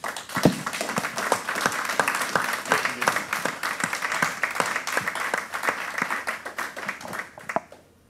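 An audience applauds a guest speaker at a French talk, a steady patter of many hands clapping for several seconds before tapering off near the end.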